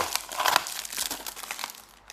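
Crinkling and tearing of a tightly taped parcel as it is opened, a dense run of crisp rustles and crackles up close with no talk.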